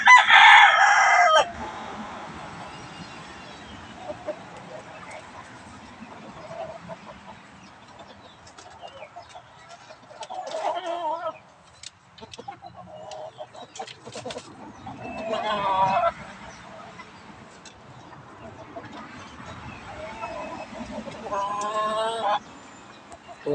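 Gamefowl roosters crow repeatedly and cluck at a breeding yard, with several drawn-out crows rising at intervals over a steady hum of background noise, while a voice talks faintly.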